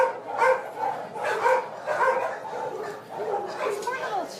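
Dogs at a busy animal shelter bark and yip repeatedly in a loud, overlapping chorus that carries on throughout without a break.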